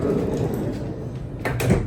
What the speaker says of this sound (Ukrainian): Бокова дверка.